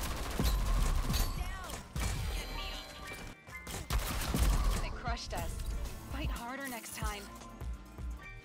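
Gunfire in the Rogue Company video game, bursts of shots and impacts from an SLC and enemy weapons fired around a wall, dense and loud throughout, mixed with game effects and a player talking over it.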